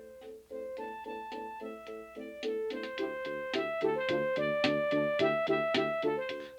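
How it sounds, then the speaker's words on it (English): A Yamaha DX7 synthesizer plays a horn-like patch through MIDI, a run of bright, brassy notes in steady rhythm that grows louder and fuller partway through, heard alone with no talking. "That's like a horn sound or something."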